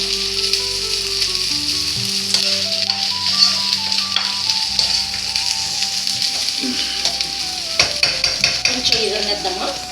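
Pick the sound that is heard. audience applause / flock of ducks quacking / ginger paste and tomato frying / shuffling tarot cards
ginger paste and tomato frying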